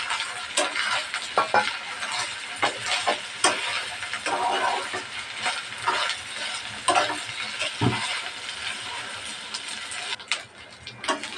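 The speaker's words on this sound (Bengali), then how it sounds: "দিয়ে দেবো শুটকিটাও ভাজে নেব তেলের ভিতরে" Dried loitta fish sizzles and fries in oil with ginger-garlic paste while a spoon stirs and scrapes the pan in steady, uneven strokes, close and moderately loud throughout with no talking.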